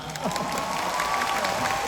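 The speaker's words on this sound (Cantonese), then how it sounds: "大家俾啲掌聲佢哋啦" A concert audience at a Hong Kong show applauds and cheers, a dense, steady wash of clapping and crowd noise.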